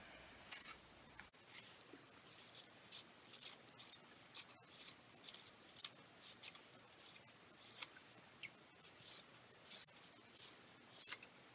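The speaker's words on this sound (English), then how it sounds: "trim that excess fabric that you have around your seam" Scissors snip repeatedly through excess fabric around a sewn seam while a fabric snake toy is being made, producing a quiet, close, irregular run of short crisp cuts with no talking.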